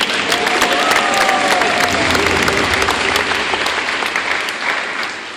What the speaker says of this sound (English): let's have a round of applause for our training team